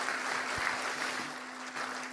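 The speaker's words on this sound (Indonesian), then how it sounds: "Profesor Dr. Megawati Soekarno Putri, kita berikan tepuk tangan yang meriah buat beliau" Steady applause from a crowd, a continuous wash of clapping heard at moderate distance, with a faint hum underneath.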